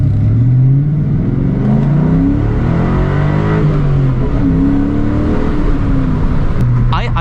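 A Mustang Cobra fitted with a Flowmaster 40 Series exhaust revs up and settles, its loud, continuous engine note rising and falling close by, with a voice briefly heard near the end.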